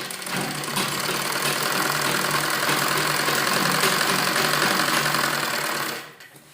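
Sewing machine stitching the inner lining fabric of a palazzo, a loud, steady rapid whirring hum running continuously for about six seconds before stopping abruptly.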